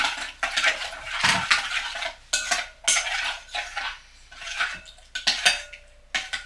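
A spoon clinks and scrapes hard against a container while maltodextrin is stirred into hot water for a homemade sports drink, giving close, loud, irregular bursts of metallic rattling separated by short pauses.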